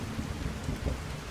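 Steady rain falls in the video game Fallout 4, a dense, even hiss with low rumbling underneath that runs unbroken and fairly quiet through the short stretch, with no voices.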